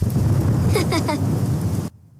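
Steady rain with rumbling thunder on a dark afternoon, a dense wash of noise with a voice briefly heard over it before it cuts off into silence near the end.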